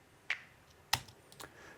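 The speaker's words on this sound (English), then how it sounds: "without the EQ, it's a pretty bright snap clap thing" Bright, bandpassed snap-clap hits from a Hurts Donut Eurorack module, three sharp dry transients spaced unevenly across a quiet background, crisp and close.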